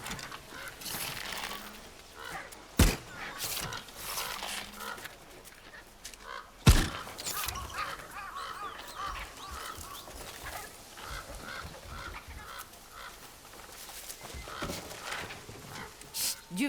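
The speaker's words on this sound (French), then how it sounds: "Des oiseaux se chamaillent sur le toit." Birds squabble on a roof in Ghost of Yotei, honking and squawking faintly in a busy, irregular chatter, with a couple of sharp knocks and soft background voices.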